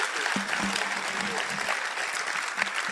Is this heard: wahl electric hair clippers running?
no